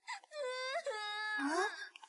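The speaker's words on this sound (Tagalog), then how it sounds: "Pakinggan mo, parang may tao na umiiyak." A person crying and wailing as a drama sound effect, a long rising and falling high-pitched moan with a tremulous sobbing break near the end, close and clear with no other sounds.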